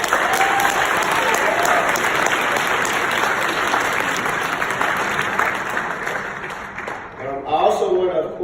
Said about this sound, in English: So I want you guys to applaud yourselves.